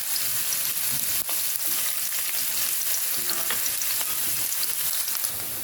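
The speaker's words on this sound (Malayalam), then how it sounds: "എണ്ണ ചൂടായി വരുമ്പോൾ നമുക്കതിലേക്ക് കുറച്ച് വെളുത്തുള്ളി ചതച്ചത് ചേർത്ത് കൊടുക്കാം." Crushed garlic and ginger fry in hot oil with a steady, dense sizzle throughout, close and fairly loud, with faint stirring clicks and no voices.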